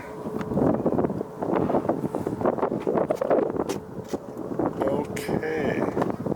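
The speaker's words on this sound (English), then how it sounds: "Kind of windy here today" Wind gusts buffet the microphone at an airport plane-spotting spot, a rough fluttering rumble that rises and falls in bursts while someone talks.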